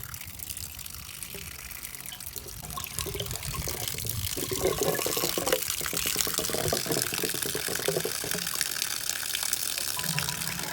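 Water drains from the yellow chute of a Truma RV water heater, a steady gushing flow that strengthens after the first couple of seconds and runs on continuously, fairly close.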